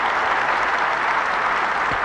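Tennis spectators at the 1975 Australian Open applauding Connors breaking Newcombe's serve, a loud, unbroken wash of clapping hands filling the whole moment.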